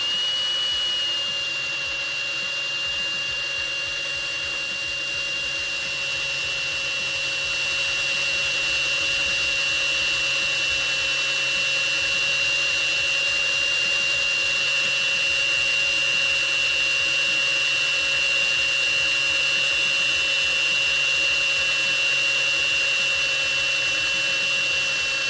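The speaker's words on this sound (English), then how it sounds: "very carefully put it in the side here and start drilling. I'm going to drill slowly." A power drill runs slowly and steadily through the sidewall of a tire, a continuous close whine with a sustained high tone holding level throughout, no talking.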